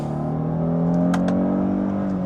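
A 2024 Kia Carnival facelift with an 8-speed automatic drops a couple of gears and its engine revs up. The steady, loud engine drone holds throughout, heard from inside the cabin with no talking.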